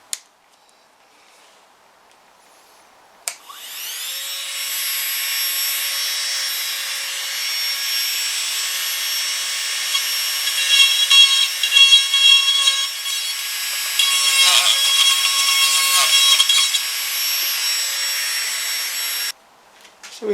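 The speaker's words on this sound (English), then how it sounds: "I've got this really tiny drill bit. And I think for this knot we're going to use this one." A small high-pitched drill whines continuously for about sixteen seconds, a tiny bit grinding out a knot in a wooden platter, starting and stopping abruptly, loud and close with no talking.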